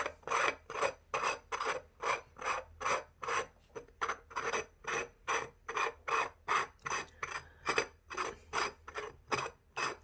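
A steady, rhythmic scraping of an upside-down coffee cup turned on its saucer, repeating in quick strokes about twice a second, close and fairly loud.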